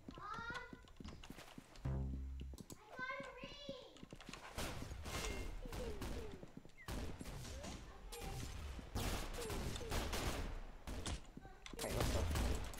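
Rapid gunfire in the Roblox game Arsenal, repeated sharp shots and bursts throughout, mixed with game effects while a player talks over it.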